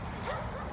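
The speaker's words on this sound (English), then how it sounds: "We got the dogs all stirred up too" A dog gives one short, close yip or whimpering bark, stirred up as a storm approaches.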